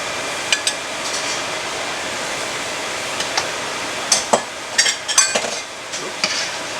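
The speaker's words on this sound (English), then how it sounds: "I'm going to add sesame oil and the beef right into it" Beef and sesame oil sizzle in a hot pan of boiling tomato sauce, a steady frying hiss punctuated by close clinks and taps of a utensil against the pan.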